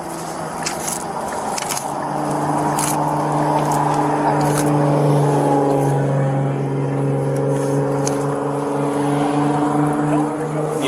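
A car engine idles after a crash in a DWI traffic stop, its steady drone and humming tones running loud and continuous throughout while people talk over it.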